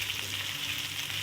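Cumin seeds with garlic and ginger frying in hot oil in a home kitchen pan, a steady dense sizzle with crackling throughout, close and unbroken, with no voices.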